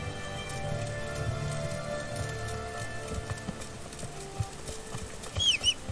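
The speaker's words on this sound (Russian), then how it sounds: "Дождь, ты кончился или снова начался?" Rain falls in a steady, dense patter throughout, with a few sharper, louder knocks and drips toward the end.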